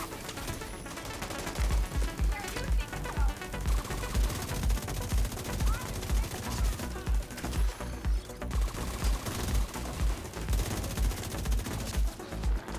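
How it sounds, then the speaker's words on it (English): Sustained assault rifle fire in The Division 2, loud rapid bursts repeating in a steady rhythm over dense game sound and music for several seconds. "Yeah, the assault rifle is doing all the work."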